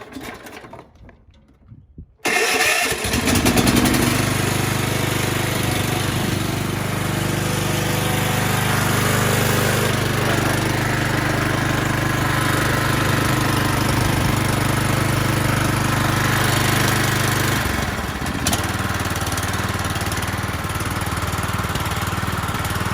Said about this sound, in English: that's how the motor runs